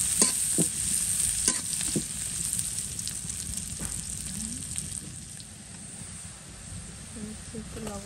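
Spices such as cardamom fry in a pan while being stirred. A steady sizzle and hiss runs throughout, broken by sharp scraping clicks of the spoon against the pan. The sound starts fairly close and fades slightly toward the end.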